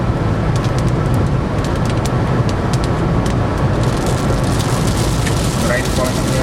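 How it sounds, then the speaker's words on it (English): Rain from a Florida summer storm pattering steadily with scattered sharp big-drop hits, mixed with a low rumble like wind or distant traffic, fairly loud and close. "Some big drops falling right now."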